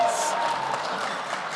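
Scattered audience applause at a Canadian Club luncheon event, a short, moderately quiet patter of clapping from the room with murmured voices mixed in.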